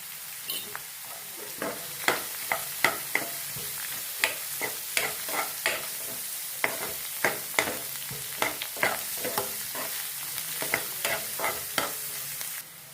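Vegetables with turmeric sautéing in a pan, a steady sizzle broken by frequent sharp scrapes and clacks of a spoon stirring, close and fairly loud throughout with no talking.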